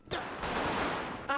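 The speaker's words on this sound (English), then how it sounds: "Shots fired. We have shots fired." Rapid gunfire in GTA 5 roleplay, a dense burst of shots close and loud for over a second, with a second burst at the end.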